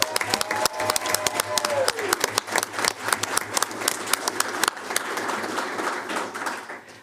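A board meeting audience at a Board of Education session applauds after a unanimous vote, with dense steady clapping and some cheering over a low hum, voices mixed in throughout.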